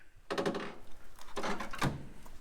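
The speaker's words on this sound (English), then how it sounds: "The door closes great." A car door on an abandoned Olds 442 drag car in a junkyard shuts twice with dull, close thunks, the second with a sharp latch-like knock.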